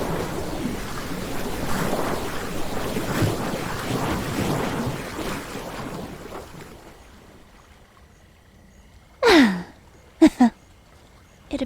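Water sloshing and rushing in a steady wash that fades after several seconds into quiet, followed by a few short sharp splashes or drips near the end.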